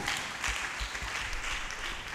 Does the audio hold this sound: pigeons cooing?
no